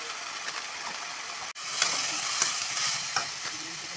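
Ground spices (cumin, turmeric and chili powder with a little sugar) frying in a pan, a steady close sizzle with scraping stir strokes and a brief dropout partway through.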